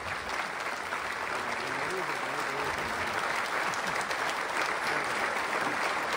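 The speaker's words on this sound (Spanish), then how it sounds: "Fuerte el aplauso para Beto" A crowd gives steady, sustained applause at a fiftieth-anniversary celebration for a livestock company, with a voice faintly audible under the clapping.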